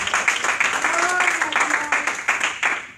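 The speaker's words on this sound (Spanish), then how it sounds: "aplaudan fuertemente a Dios" A church congregation applauds, loud dense clapping filling the space, with voices calling out over it throughout.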